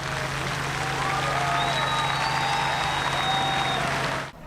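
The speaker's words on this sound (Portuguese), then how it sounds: "Na despedida, aplausos." Crowd applause at Gugu's farewell ceremony, a steady wash of clapping from many people, moderately loud and even, with faint whistle-like tones drifting over it.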